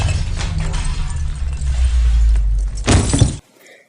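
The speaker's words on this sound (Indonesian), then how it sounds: "Cermin itu pun pecah" A mirror shatters in a horror film scene, a burst of breaking glass over a dark rumbling score, then a second crash before sudden silence.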